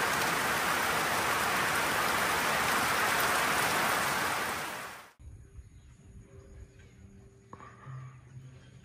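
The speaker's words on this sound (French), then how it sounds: "Quand il pleut, il pleut." Heavy, dense rain in Costa Rica pours steadily for about five seconds, then cuts off abruptly, leaving quiet room tone with faint scattered sounds.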